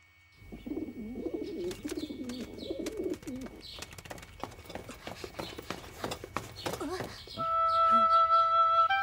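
A cartoon pigeon gives soft warbling coos, followed by light clopping and chirping effects and then a sustained musical tone, everything fairly quiet and close.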